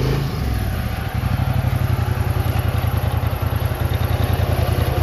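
A 2020 Polaris Scrambler XP 1000 ATV engine runs close by, settling from a brief rev into a steady, rapid, chugging idle.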